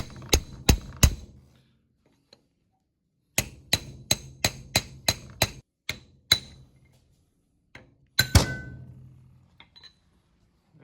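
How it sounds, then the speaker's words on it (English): Sharp metallic strikes on a brass punch against a ring gear on an ARB locker from a Jeep, three quick hits, then a fast rhythmic series of eight, then a few last heavier blows with a ringing clatter, close and alone. "So now we're going to get the brass punch out."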